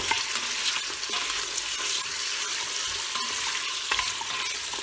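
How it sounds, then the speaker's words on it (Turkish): Meat stirred and seared in an Emsan Shefer Taç clip-lid pressure cooker, a steady broadband sizzle with scraping stirs throughout, close and continuous with no talk. "etlerimizi koydum. Şimdi bunları bir hafiften çevireceğim."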